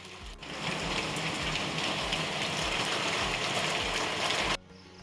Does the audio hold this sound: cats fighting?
no